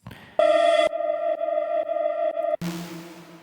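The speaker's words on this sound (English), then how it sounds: "I record it and I just reverse it. It's like a like a poltergeist reverb effect." Reversed reverb effect on a song in a remix: a few sustained, harmonically rich synth-like tones pulse steadily, then cut into a swelling, hissy wash of reversed reverb that fills the tail. No voices.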